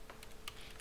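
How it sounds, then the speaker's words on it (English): Light keystrokes on a computer keyboard as an IP address is typed on a Windows Server 2019 machine, a few quick soft taps in well under a second, faint and close. "I'm going to type here"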